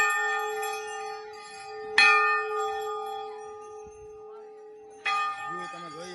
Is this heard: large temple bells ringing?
yes